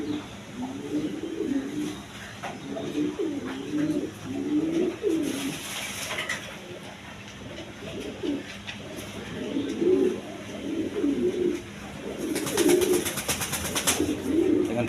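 A breeding pair of fancy pigeons at a pigeon farm coos in repeated rolling phrases, close and clear, with faint background noise and occasional wing or rustle bursts.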